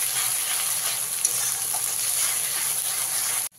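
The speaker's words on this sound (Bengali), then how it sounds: "যতক্ষণ পর্যন্ত না আদা রসুনের কাঁচা গন্ধটা যাচ্ছে ততক্ষণ ভালো করে মশলাটাকে কষিয়ে নিতে হবে" Ginger-garlic paste and spices frying over a medium flame for chana masala, a steady broadband sizzle that holds evenly close up and cuts off abruptly at the end.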